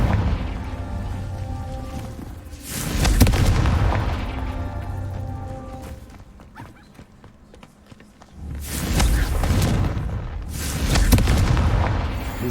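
Two heavy blasts from a Confringo blasting curse in Hogwarts Legacy, each a loud booming burst that rolls off slowly, separated by quieter footsteps and ambient game sound.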